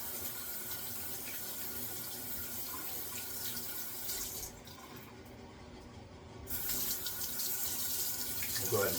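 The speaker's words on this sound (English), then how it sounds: "go ahead and rinse my hand." Tap water running into a sink while a hand is rinsed under it, a steady close hiss of flowing water that briefly thins and then returns stronger.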